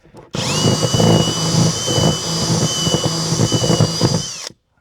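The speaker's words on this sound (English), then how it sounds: "I need to make the hole a little bit wider, so I got this drill bit." A loud power drill whines steadily for about four seconds, its motor pitch holding level as the bit widens a hole for a 3/4 inch conduit fitting in a solar power shed, then cuts off abruptly.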